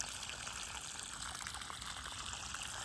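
Irrigation water flows steadily into carrot beds in a field, a continuous soft gushing wash that stays faint and even throughout with no voices.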